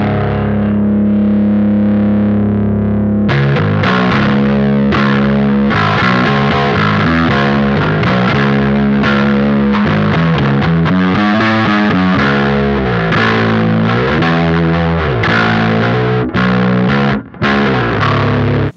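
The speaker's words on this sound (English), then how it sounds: "see how it sounds when we start to turn up the SD1 style gain" Electric guitar played through an SD1-style overdrive with the gain turned up, a loud, dense, gnarly distorted tone with mid-forward, aggressive chords and riffs sounding continuously after a brief quieter start, with no talking.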